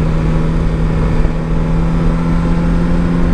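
A 2024 Suzuki GSX-S 1000 GT motorcycle engine drones loudly at steady revs while riding, its low hum constant with wind rush and no speech.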